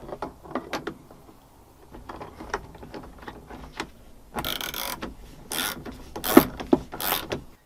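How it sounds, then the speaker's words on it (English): A screw driven in during restoration of a 1999 Mitsubishi Montero, with a series of close, irregular mechanical clicks and ratcheting sounds, then denser bursts of scraping and whirring later on. "Screw in this screw."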